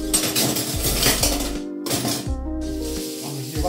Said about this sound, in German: Ich spüle hier mal die Teller ab